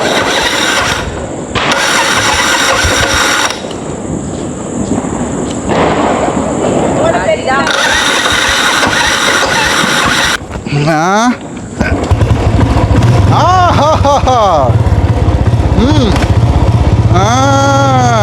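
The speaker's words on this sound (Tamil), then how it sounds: "இன்றைக்கு வந்து ராயல் என்ஃபீல்ட் பைக் வந்து ஓட போகிறேன்னா" A Royal Enfield motorcycle engine cranks and fires up, then settles into a loud, throbbing idle with revving, close by; speech is mixed in at times.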